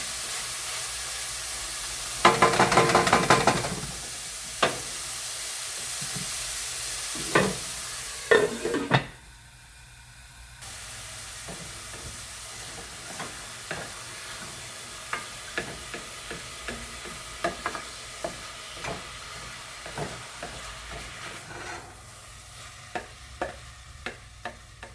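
Chopped vegetables including red and green pepper cooking in a pan with a low sizzle, broken by scattered clicks and scrapes of stirring, a brief louder burst early on and a short lull midway.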